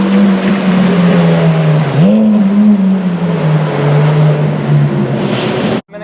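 A Ferrari race car driven on a public street holds a loud, steady engine drone that dips and rises again as the throttle is blipped, then cuts off abruptly at the end.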